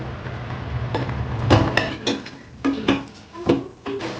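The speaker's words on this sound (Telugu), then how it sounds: "ఇది సిమ్లోని ఉంచుకొని కలుపుతూ ఉండండి బాగా దగ్గరకు వచ్చే వరకు" A spoon scrapes and knocks against a pan while coconut laddu mixture is stirred over low heat, giving irregular clinks and taps at close range with no one talking.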